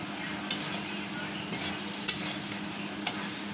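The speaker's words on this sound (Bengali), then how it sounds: "ভালো করে একটু নেড়ে নিব" Ground chili, coriander and cumin spices are stirred in a cooking pot with a steady frying hiss and three or four distinct scraping strokes of a spoon against the pot, close and clear with no talk.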